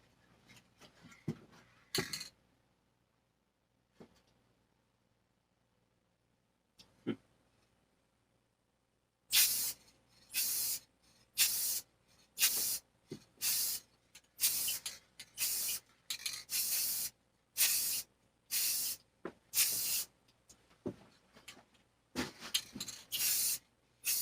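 Spray paint hissing onto car taillights for the final coat, in a string of short, loud bursts, a few faint bursts first and then repeated closely spaced blasts separated by brief pauses, with no talking.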